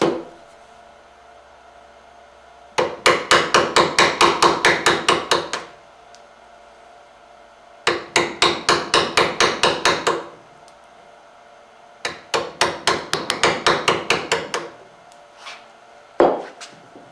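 Wood being carved into a straight ramp, heard as three close bursts of quick, evenly repeated cutting or rasping strokes with short pauses between, then a single final stroke, and no talking.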